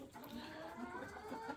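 A broody hen sitting on eggs gives low, continuous murmuring clucks close by, faint and steady throughout the short moment.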